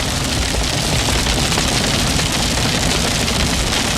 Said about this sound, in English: That is the sound of hail impacting the windshield there